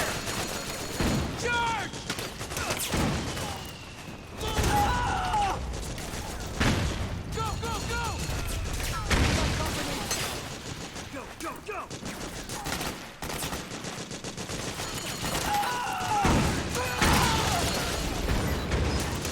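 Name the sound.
gunfire in Metal Gear Solid 4 video game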